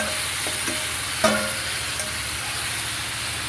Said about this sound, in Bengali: মাংসটা ভালো করে কষে কষে রান্না করতে হবে